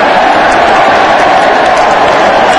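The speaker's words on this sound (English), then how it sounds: "It's the roar of the crowd." A loud, continuous roar from the crowd at Football Park during a 1997 AFL match between Adelaide and Richmond, a dense and unbroken wash of massed voices.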